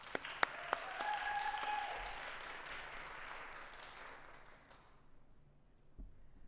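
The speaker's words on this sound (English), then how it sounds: "let's just give them an opening round of applause" An audience applauds the panelists at the opening of a health equity panel discussion, steady clapping from a room of people that swells and then fades out over several seconds.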